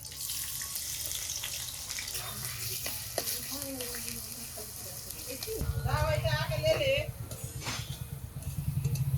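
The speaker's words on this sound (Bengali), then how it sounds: "আগে সাদা তেল দিয়ে পেঁয়াজের বেরেস্তাগুলো ভাজবো।" Sliced onions frying in hot white oil in a heated kadai for biryani, a steady close sizzle under light kitchen clatter, rising louder and denser partway through.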